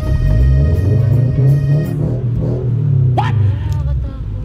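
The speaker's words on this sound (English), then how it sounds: "ito po yung first ride namin sa sports car together ni Carlene" A sports car engine rumbles loudly and steadily close by, rising and falling as it revs, with a voice talking over it.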